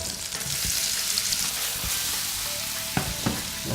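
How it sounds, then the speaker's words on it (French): Steady hot sizzling and crackling of bananas frying in a hot saucepan, with a few sharp clicks and taps of a utensil near the end. "Ma casserole est chaude. Donc là, je vais ajouter mes bananes."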